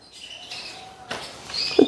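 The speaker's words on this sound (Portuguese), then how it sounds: "A fêmea vermelho mosaico falou que sim." A female red mosaic canary, a domestic breed, gives a few short, bright chirps that rise toward a sharper, louder call at the end. The bird sounds close and clear against a quiet background.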